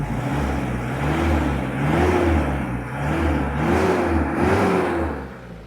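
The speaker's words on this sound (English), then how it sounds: "Okay, I'm gonna do some engine revs." A 1994 Mitsubishi Delica Star Wagon 4WD diesel van engine revs from a low idle rumble into several rising and falling swells, close and loud, with a whirring tone climbing on each rev and no talk.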